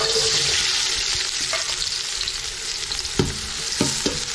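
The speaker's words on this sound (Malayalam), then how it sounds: "നല്ല എണ്ണയൊക്കെ ഇപ്പോൾ നന്നായി ചൂടായി വന്നിട്ടുണ്ട് അതിലേക്ക് നമുക്ക് ബിരിയാണിക്ക് വേണ്ട സവാള ഒന്ന് വായിക്കിയെടുക്കാം" Sliced onions for a vegetable biryani fry in hot oil with a loud, continuous hissing sizzle. A few sharp stirring clicks and scrapes come near the end.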